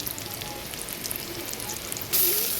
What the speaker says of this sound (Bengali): আদা রসুন দিয়ে ভালো করে ভেজে নেব।